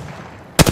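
A quick burst of gunfire in Apex Legends snaps out after a quiet moment, several close shots in fast succession.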